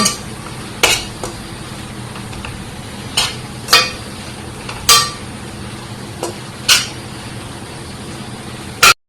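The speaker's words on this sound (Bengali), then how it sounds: "এখন আমি ভালোভাবে নেড়ে ছেড়ে জলটা শুকিয়ে নিয়ে নেব।" Spinach being stirred as it fries in a pan to cook off its water, with a spoon knocking the pan in sharp, spaced clacks over a steady low sizzle, close and moderately loud, no talking.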